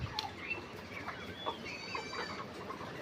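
Layer hens on a poultry farm cluck in short, scattered calls, with a few sharper squawks rising over a steady low barn background; several birds sound close by and no one speaks.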